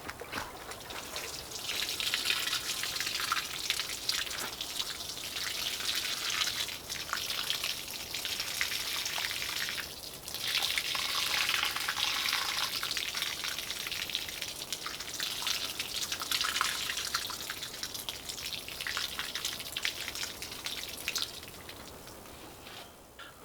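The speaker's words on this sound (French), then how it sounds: "J'arrose." A steady, soft hiss of water streams over strawberry plants as they are watered, continuous with slight surges, fairly faint and with no talking.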